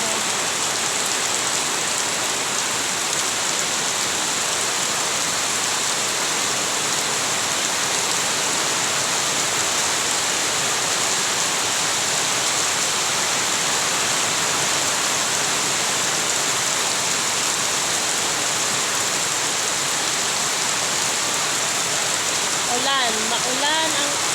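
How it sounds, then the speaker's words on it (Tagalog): Heavy rain pours down on a dark, rainy morning, a dense loud continuous hiss filling the whole stretch, with a brief voice near the end. "Lakas ng ulan"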